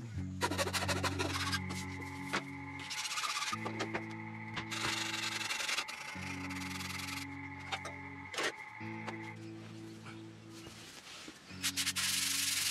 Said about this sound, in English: I sanded back the wood filler where I put some additional screws in the body.